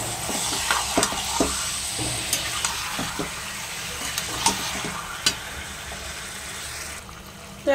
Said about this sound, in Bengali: একটু হাই ফ্লেমে চিকেনটাকে আগে নেড়ে চেড়ে নেবো ভালো করে